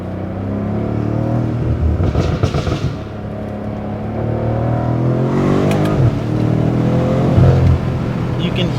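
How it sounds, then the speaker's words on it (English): A BMW M5 engine revving hard through a drive, with a loud rumbling exhaust rising and falling and tires briefly breaking traction, heard from inside the car over steady road noise with a voice talking over it. "You can hear this thing doing burnouts when you step on the gas."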